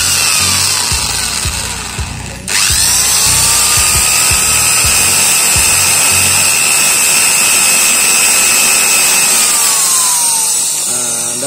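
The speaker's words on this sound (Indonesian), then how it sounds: "kita akan bikin lubang dulu di sini dengan bor yang mata kecil dulu" Small-bit drill boring a pilot hole into teak wood for a slingshot frame, a steady close whine with a brief stall near the start, the drill motor running continuously throughout.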